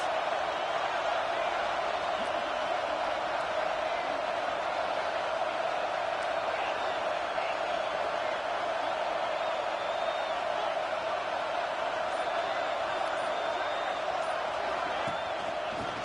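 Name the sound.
football stadium crowd noise against the offense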